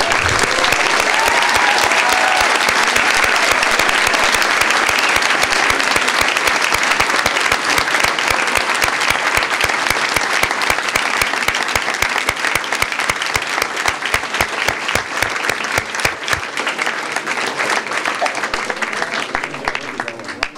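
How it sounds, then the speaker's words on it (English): A final round of applause at a school board meeting, long and loud with many hands clapping in a dense wash, thinning into more distinct individual claps before easing off near the end. "Ladies and gentlemen, how about a final round of applause?"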